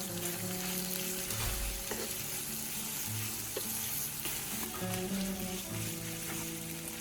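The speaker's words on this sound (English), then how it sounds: "add 1 portion of ground meat and stir until the meat is fully cooked" Onion and ground meat sizzle and fry steadily in a pan, a continuous close crackle with occasional stirring scrapes, no voices.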